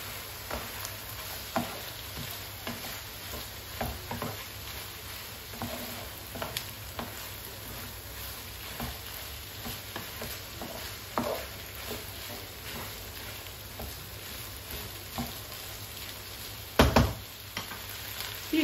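Washed rice sautéed with butter in a single pot, a soft continuous sizzle broken by scattered light scraping and knocking strokes of a spoon, fairly quiet and without speech.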